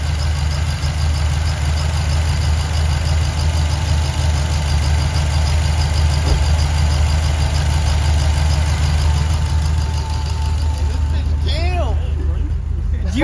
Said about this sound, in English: My car is misfiring.